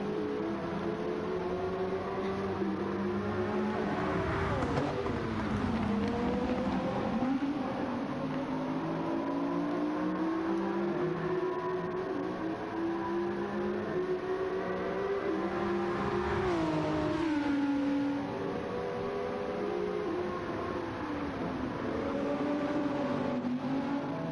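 Toyota Supra and Audi race cars in a racing video game at Watkins Glen, engines droning steadily and revving with rising and falling pitch sweeps as they run close together, loud and continuous with no talk.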